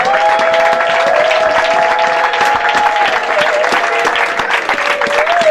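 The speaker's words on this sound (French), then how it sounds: "Can we put our hands together for Jesus?" A church congregation applauding for Jesus, loud dense clapping that continues steadily throughout, with an organ or keyboard note held underneath.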